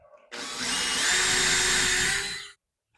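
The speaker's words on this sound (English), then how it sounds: "Let me go ahead and mark this hole first. Get that one drilled first" A power drill bores a hole in drywall during installation of a smart sprinkler controller, starting abruptly in a loud, steady high whine that rises slightly in pitch, then cuts off after about two seconds, leaving quiet.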